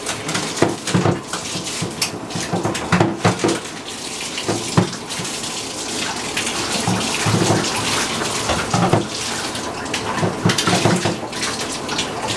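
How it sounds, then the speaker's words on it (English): Running tap water rinses soap off an M40/M42 series gas mask, a continuous splashing stream broken by irregular clatters and knocks as the mask is turned and handled under the flow. "Now we just go through, rinse it off with plain water"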